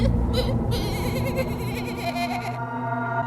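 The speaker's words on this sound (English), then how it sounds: "He sounds like a goat." A character in the Tiny Bunny video game bleats like a goat, a loud wavering cry with shaky vibrato running for about three seconds over a steady background tone, then cutting off abruptly.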